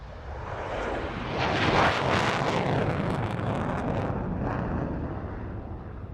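A Saab AJS-37 Viggen jet making a short takeoff at an airshow, a loud, broad roaring blast of engine thrust that swells, peaks, then slowly fades as it climbs away.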